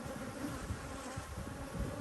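Honey bees buzz at a hive, a dense continuous drone of many wings close by with small swells in loudness and no voices.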